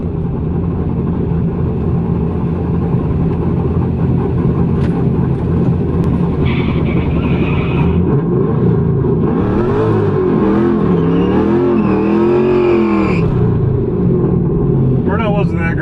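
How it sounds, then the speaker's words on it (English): Pontiac Trans Am WS6 doing a burnout at a drag strip, a loud, close engine roaring and revving continuously with rising and falling pitch over a steady rumble, while a voice talks. "I'm gonna do a little burnout, see what happens"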